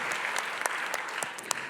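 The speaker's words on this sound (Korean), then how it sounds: "우리 서로를 향해서 우리 격려의 박수와 감사 박수 한번 할까요?" Congregation at a special dawn prayer service applauding to thank and encourage the deaconesses, a dense steady clapping with a few sharper claps standing out.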